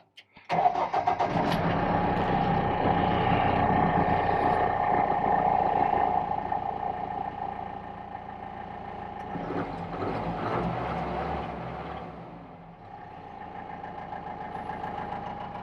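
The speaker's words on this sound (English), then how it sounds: "Engine is already warmed up a little, so I don't have to wait as long." A Mahindra Roxor turbo diesel engine, already warmed up, turns over and catches, then settles into a steady, fairly loud idle that runs on with slight fluctuations.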